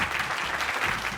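A studio audience claps in a short, dense burst of applause, steady and fairly loud for about a second, with no clear speech over it.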